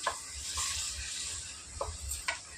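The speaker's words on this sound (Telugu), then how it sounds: "చూడండి మసాలా బాగా వేగిపోయింది" Masala with coriander and curry leaves fries in a pan, a soft steady sizzle with a few faint stirring scrapes and taps, fairly quiet and without voices.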